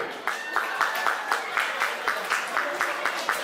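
Crowd claps along in a steady, quick rhythm at a Turkmen wedding celebration in Istanbul, the even beats mixed with voices and festive sound.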